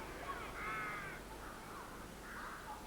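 Several black crows caw in the open sky, harsh repeated calls coming in separate bursts over a steady outdoor background, moderately distant.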